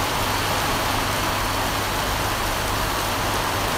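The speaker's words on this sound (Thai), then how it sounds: "โอ้โหฝนตกหนักจริงๆครับ" Heavy rain falls outside a house in a constant, loud hiss of drops hitting leaves and surfaces, unbroken from start to finish.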